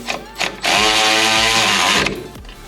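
A power tool spins a 7/16 socket to tighten ball joint bolts on a Chevy S10, a loud steady whirring burst lasting over a second between short revving bursts.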